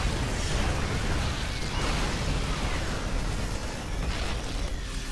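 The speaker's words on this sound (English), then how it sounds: "look how many bunkers are coming down" Bunkers blowing up in a StarCraft II match, a dense rolling mass of overlapping explosions and pops that stays loud and continuous throughout, with no voices.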